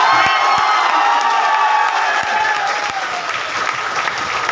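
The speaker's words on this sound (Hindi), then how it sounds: "इतना बड़ा ताली बजा दो" A lively crowd at an IMC business gathering in Surat claps loudly and cheers, with whoops and shouts rising over steady applause that slowly eases toward the end.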